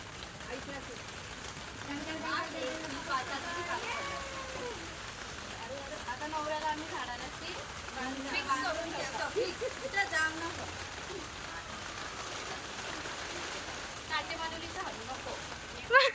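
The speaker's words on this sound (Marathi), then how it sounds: "पाऊस आलेला आहे" Rain falls steadily throughout as a soft, continuous hiss, with people talking and laughing close by over it.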